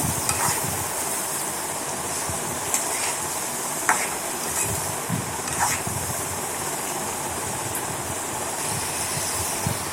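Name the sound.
stirring carrot fry with salt and turmeric in pan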